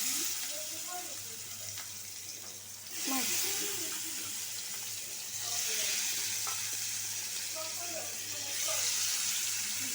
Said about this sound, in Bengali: মাছ দিয়ে দিছি মাছটা ভাজা হোক